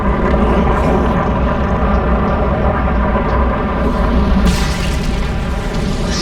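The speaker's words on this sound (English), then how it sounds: "The Terrans have launched a missile." A Terran missile launch and explosion in StarCraft II, heard as a loud, sustained roaring rumble that swells with a brighter blast near the end.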